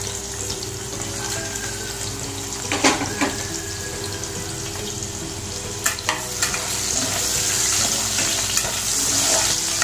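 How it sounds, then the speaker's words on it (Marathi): Potatoes sauté with washed vegetables in a little oil for a vegetable kurma: a steady close sizzle runs throughout, broken by a few sharp spoon scrapes against the pan. "आपण ह्या थोड्याशा तेलामध्ये परतून घेणार आहोत"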